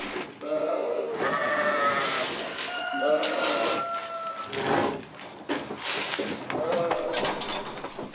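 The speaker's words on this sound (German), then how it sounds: "kümmert sich um die Schafe" Sheep bleat repeatedly on a farm in the Dahner Felsenland, Germany, that also keeps dairy animals, several calls of varying pitch rising over a busy barn background, with a voice speaking over part of it.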